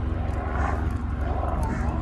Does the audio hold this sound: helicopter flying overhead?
yes